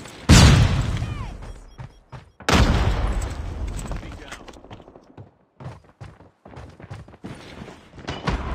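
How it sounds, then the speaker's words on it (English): A deployed sentry gun fires in a video game: two loud booming bursts, each fading into rattling shots and scattered impacts, with a voice speaking between them. "Sentry gun deployed."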